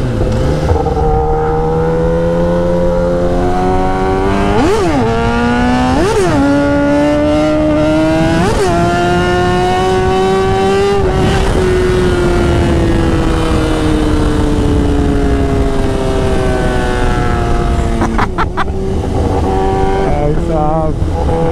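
Loud high-revving sport bike engine, a Kawasaki ZX10R or BMW S1000RR, pulling a wheelie on a highway, with repeated rising revs and gear-change dips, sustained roar close by.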